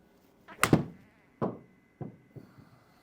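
A golf club strikes a ball during a practice shot: one sharp, loud crack, followed by a few fainter, shorter knocks in an otherwise quiet outdoor setting.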